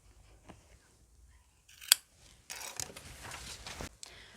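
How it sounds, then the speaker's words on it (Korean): Scissors snipping notches into the seam edges of a linen jacket during sewing, a few quiet cuts followed by a sharper close snip and then a run of rustling cutting sounds, with no talking. "여기는 경계면에 가위밥 한번 주겠습니다."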